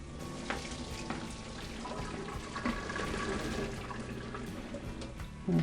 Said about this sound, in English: just drain them off into a colander